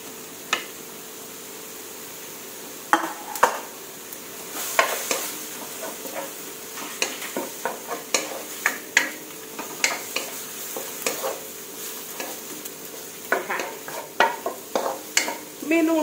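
Pork being stir-fried with fresh bamboo shoots in a pan: a constant sizzle under repeated sharp scrapes and clacks of a utensil against the pan, irregular and close.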